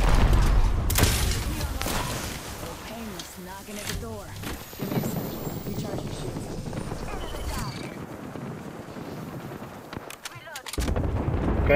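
Video game gunfire cracks and booms with bursts near and far, loud volleys at the start and end, while players talk over the shooting.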